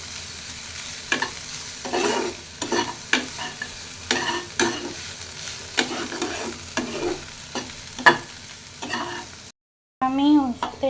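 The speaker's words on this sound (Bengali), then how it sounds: "হলুদ গুঁড়ি দিয়ে ভালো মতো ভেজে নিব।" Bitter gourd slices frying with salt and turmeric powder in a pan, a steady sizzle broken by repeated spatula scrapes and stirs, close and fairly loud, with a brief gap near the end.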